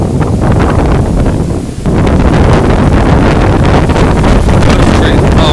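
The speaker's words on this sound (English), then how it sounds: "this wind is really kicking" Strong Hurricane Irma wind roaring in Jacksonville, Florida, a loud, continuous buffeting rush hitting the microphone with only a brief lull, near and overwhelming.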